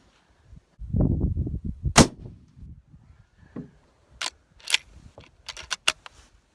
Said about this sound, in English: These are steel targets, so you should be able to hear them ring.